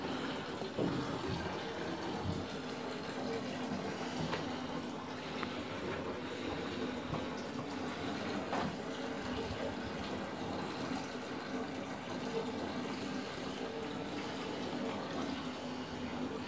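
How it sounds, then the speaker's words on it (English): Water runs steadily from a tap while an English Springer Spaniel is bathed, a continuous close gushing splash that carries on alone with no talk. "Peter, you want a bath? You want a wash?"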